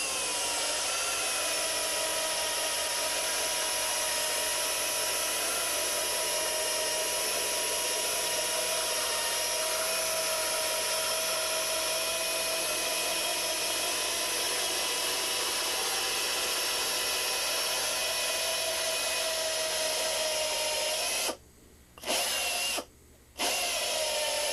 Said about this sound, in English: then we just use our little cutoff wheel